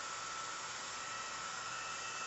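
A hair dryer pumping air into a hollow box of a homemade tornado machine, giving a steady, even whooshing hiss of blown air with no change in level.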